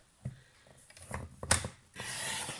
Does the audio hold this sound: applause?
no